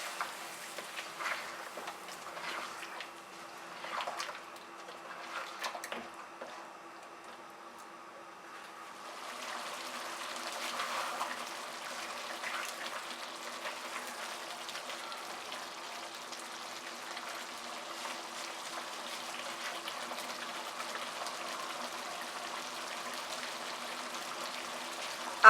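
Mutton and ground masala fry over high heat in a steady, soft sizzle with a few faint clicks early on, growing fuller and more continuous after the first stretch.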